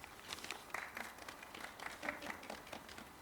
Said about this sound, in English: And now he gets the applause.